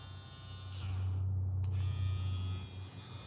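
Babyliss hair trimmers run at full speed, around 7,500 RPM, giving a quiet, steady electric hum that holds unbroken from start to finish close by.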